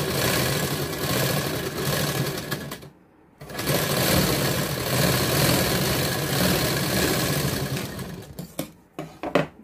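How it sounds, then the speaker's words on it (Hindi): Sewing machine stitching a double seam on a katori blouse, a steady close whirring run that stops briefly partway, then resumes before ending in short uneven bursts. "डबल सिलाई लगा देंगे।"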